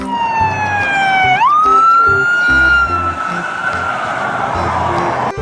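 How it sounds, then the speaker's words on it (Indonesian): A toy police car sounds a loud electronic siren that sweeps down, then jumps into a steady high wail for several seconds, close and dominant throughout. "Mobil polisi teman-teman."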